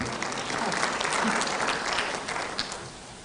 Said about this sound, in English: That's where you clap.